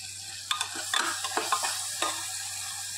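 Cashew paste goes into a sizzling pan for masala tondli (ivy gourd), with a steady fry hiss and several sharp spoon scrapes and stirs against the pan; no voices.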